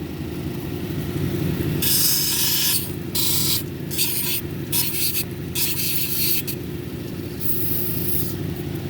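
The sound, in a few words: sanding agate cabochon on 220 grit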